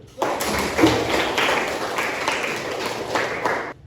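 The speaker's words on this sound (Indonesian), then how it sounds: "Kita kasih tepuk tangan dulu." Classroom applause from students during a lesson, a burst of dense clapping starting sharply and continuing steadily for several seconds, fairly close, with no talk over it.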